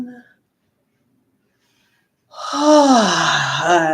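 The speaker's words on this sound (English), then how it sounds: "Feet on the ground. Deep breath." A single deep breath drawn in and let out through the nose and mouth during a guided healing meditation, close and clear, following a moment of silence.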